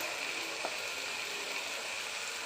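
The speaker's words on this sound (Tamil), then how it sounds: "எண்ணெய் காஞ்சிருச்சு. கடுகு போட்டுக்கிறேன்" Mustard seeds sizzling in hot oil in a pan, a steady crackling fry with faint popping, moderately loud and continuous throughout, with no talking.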